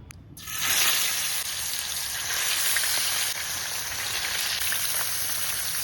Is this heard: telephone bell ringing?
no